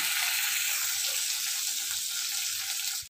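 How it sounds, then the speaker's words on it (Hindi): Dried red chili and chopped garlic sizzle in hot oil for a South Indian rasam tempering, a loud, close, continuous bright frying hiss that holds steady throughout with no voices. "उसे भी डाल दूंगी और फिर जो मैंने आधा लहसुन कट करके रखा था वो भी डाल देंगे अब इसे थोड़ा फ्राई होने देते"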